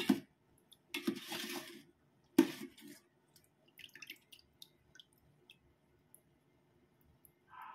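Faint water sloshes and drips come in short bursts as onde-onde sesame balls are rinsed, with small wet squishes and light clinks in between, close and quiet.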